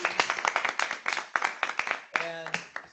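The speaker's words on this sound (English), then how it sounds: "One more round of applause for our presenters." A round of applause for presenters at a weekly meeting, steady clapping from a group of people for about three seconds, fairly close and loud, with some speech mixed in.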